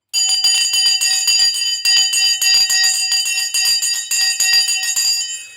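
An electric bell rings loudly and continuously in three long bursts with brief gaps, a bright metallic clang marking the market open on a live stock trading stream.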